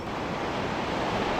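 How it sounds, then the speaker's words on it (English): Surf roars on the shore as a dense, continuous wash of breaking waves, loud and steady without pause, with no voices. "listening to the roar of the surf on the shore"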